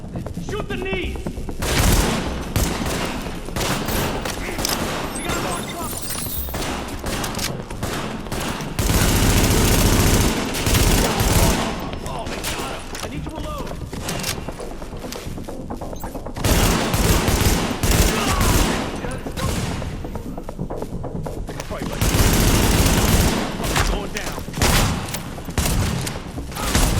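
Heavy firefights in The Division video game, with loud automatic weapons firing in long, dense bursts separated by brief lulls, giving a near-continuous crackle of shots for almost half a minute.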